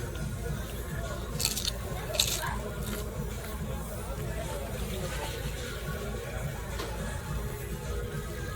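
Crunchy chicken wonton taco shells from Applebee's, served with coleslaw, crack between the teeth in a few quick, close bites. The bites sit over a steady background hiss, with chewing noises after them.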